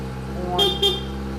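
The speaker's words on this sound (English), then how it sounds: "Horn," A 2021 Kawasaki ZX-10R horn sounded during a safety check at its first service: two short, close honks in quick succession over a steady idling engine hum.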